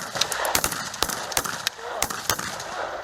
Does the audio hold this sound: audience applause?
no